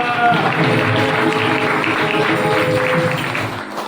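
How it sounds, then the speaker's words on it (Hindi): A church congregation claps together on a rainy day, a dense, steady wash of applause lasting several seconds under a sustained musical tone, with voices mixed in before it eases slightly at the end. "आइए जोरदार तालियों के द्वारा हालेलुया।"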